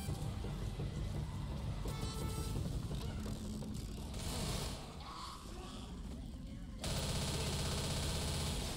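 A minigun in the zombie shooter Left 4 Dead roars in long continuous bursts, loud and dense, with a brief dip before the firing resumes. A voice talks underneath.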